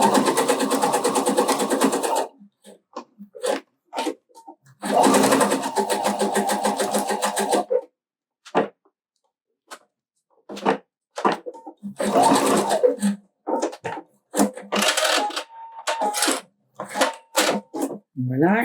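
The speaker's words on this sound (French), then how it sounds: "Les tissus ensemble et on vient surpiquer." A sewing machine topstitches assembled backpack fabric in several bursts of rapid mechanical stitching, separated by pauses filled with quiet handling clicks and a person talking.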